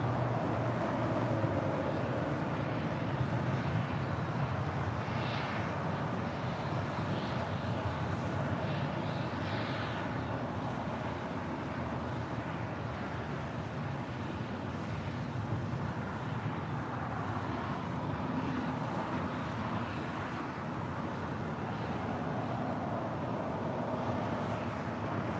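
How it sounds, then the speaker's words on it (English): An airplane at LAX airport gives off a steady, continuous roar of engine and ambient rumble that holds for the whole stretch, with no talk over it. "Plane heading to the north side of Tom Bradley"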